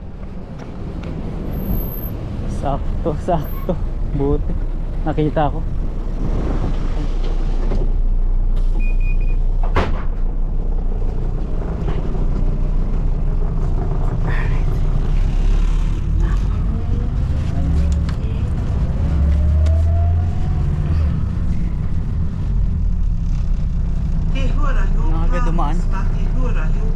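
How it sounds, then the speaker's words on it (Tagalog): A city bus pulls up at a bus stop near the Clendon roundabout in New Zealand, its engine rumble rising and settling as it arrives, under someone talking close by. "Ayan na yung bus."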